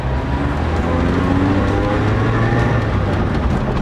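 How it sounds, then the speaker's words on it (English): A 2001 Ford Ranger XLT with an exhaust leak drones loudly from the cabin while driving, a steady low engine and road rumble filling the clip without talk. "it has an exhaust leak"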